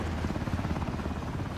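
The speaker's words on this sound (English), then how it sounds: "Chopper's right there, dude." Helicopter in the battle royale video game Ring of Elysium, a continuous low rotor thrum with rapid pulsing blade chop, steady and fairly close, with no talk.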